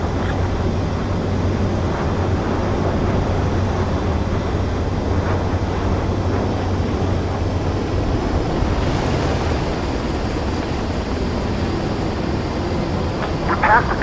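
Fighter jet in Ace Combat 7 on final approach to land, a steady loud roar of jet engine and rushing air holding throughout with no break.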